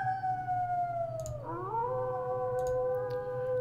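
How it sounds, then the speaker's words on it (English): Wolf howl sound effect from a Curse of Strahd tabletop pack: a long sustained howl with harmonics that dips in pitch midway then holds steady, clear and fairly loud over a low droning background. "We've got our wolf howls."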